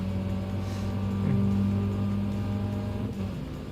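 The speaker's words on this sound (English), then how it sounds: "you hear the nice rumble of the engine" A race car's engine in Gran Turismo 7 holds a steady, loud droning rumble with a subtle pitch shift partway through, heard alone without talk.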